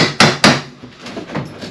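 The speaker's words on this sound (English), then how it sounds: "and then hammer it down and the nail comes up like that." Two sharp hammer blows on a nail ring out in quick succession during bathroom renovation, close and loud, followed by softer knocking and scraping.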